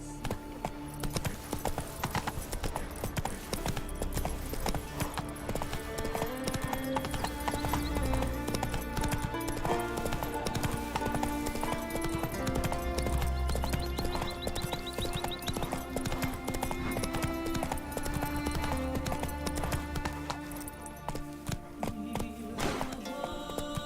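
Roach, the horse from The Witcher 3, gallops with rapid rhythmic clip-clop hoofbeats over game music, loud and continuous throughout.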